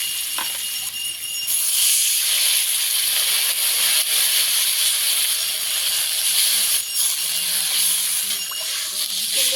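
Water hits a hot pan of fried vegetables, bursting into a loud, sustained steamy hiss that holds steady throughout, with a brief dip and a couple of light knocks near the start.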